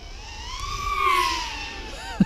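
A SwellPro Swift 2 drone makes a fast pass, its rising and falling motor whine sweeping up in pitch, peaking loudly as it passes close, then fading away, with a short knock near the end.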